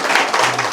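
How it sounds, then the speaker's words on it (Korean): Audience applause at a political lecture hall, a brief dense wash of clapping from a crowd, steady and fairly loud throughout. "큰 박수로"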